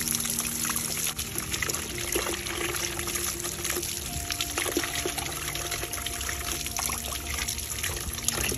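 Water poured and trickling steadily over orchid roots as the soil is washed off, a continuous splashing stream with a faint hiss, with no talking.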